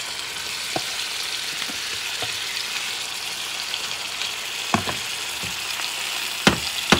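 Steaks frying in oil in a pan for a Puerto Rican style steak sandwich with onions, a steady loud sizzle throughout, broken by a few sharp clicks and scrapes of a cooking tool, no voices.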